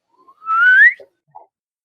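A voice imitating a slide whistle: a single loud whistled tone gliding smoothly upward, followed by two short faint blips, alone with no talk.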